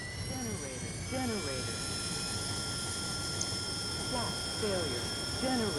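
An AV-8B Harrier jet engine starting up in the DCS flight simulator produces a steady whine with high sustained tones under a voice talking throughout.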